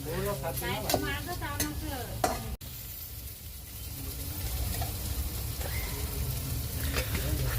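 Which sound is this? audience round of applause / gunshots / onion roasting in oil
onion roasting in oil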